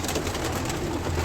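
Pigeons coo steadily in a breeding loft, a low continuous murmur of overlapping calls close by with no talk.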